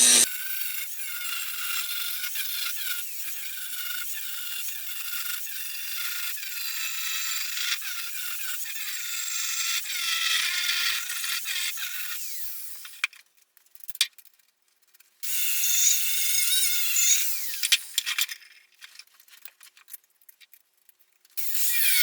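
A grinder works down E7018 welds in a basement, a bright, gritty abrasive whine held for long stretches, then breaking into short bursts and pauses near the end.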